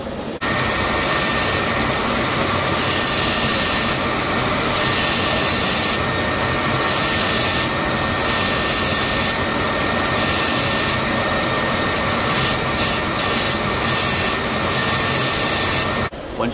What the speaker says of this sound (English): So the next step on this process is sanding.